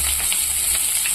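Chopped onion, green chillies, two dried red chillies and curry leaves sauté in hot oil in a pan for semiya upma, giving a steady, close, crackling sizzle with no voices.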